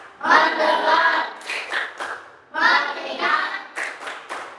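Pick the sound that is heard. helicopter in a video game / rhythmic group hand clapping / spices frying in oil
rhythmic group hand clapping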